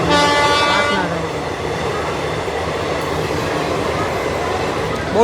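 A train passes close by, and a loud horn blast sounds at the start before the clatter and rumble of wagons roll on steadily. Faint voices are audible underneath.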